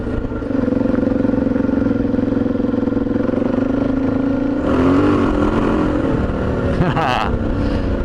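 A Suzuki DRZ400 dual-sport motorcycle is ridden along a road, its engine droning steadily and loudly up close, with a brief rise in pitch and a gust of wind noise near the end.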